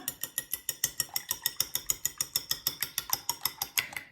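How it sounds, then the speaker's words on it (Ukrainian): Three eggs whisked briskly in a bowl for an omelette-style mixture, giving a fast, even run of sharp clicking strokes, about five per second, close and alone. "Яйця гарненько збиваємо."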